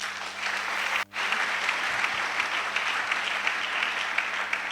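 A church congregation claps together to acclaim the Lord, a dense, steady wall of applause that carries on with only a momentary dip near the start.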